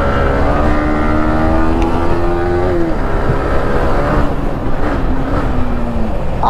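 A Bajaj Pulsar RS200 motorcycle engine runs loud and steady while ridden on the street, its pitch rising and easing through throttle changes, with a harmonic drone throughout.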